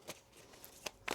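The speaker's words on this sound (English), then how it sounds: "One more shuffle here." Tarot cards being shuffled by hand, a few soft, brief riffling bursts spaced apart against a quiet background.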